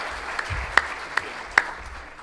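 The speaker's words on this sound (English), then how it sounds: "How about a round of applause for Jacques?" A few sparse hand claps ring out at a high school sports hall of fame induction ceremony, evenly spaced, over a quiet room background.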